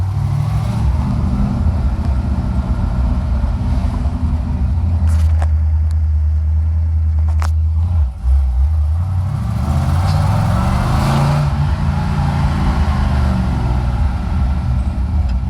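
A loud old car engine, cold and without power steering or power brakes, runs close by, droning steadily with a few shifts in pitch as it revs and settles.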